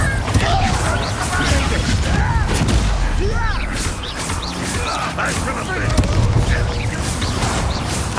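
In the Hogwarts Legacy video game, a Confringo blasting curse explodes in muffled booms amid busy combat noise and crackling spell effects, with voices calling out over the fight.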